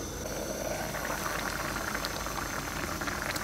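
Raw fish cooks slowly in spiced masala in a pan, making a dense, continuous bubbling sizzle that stays close and even throughout, with no voices.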